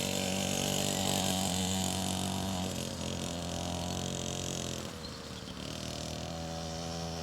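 A dirt bike engine idling, a steady buzzing drone with a slight dip in pitch and level partway through, fairly loud and continuous, with no talking.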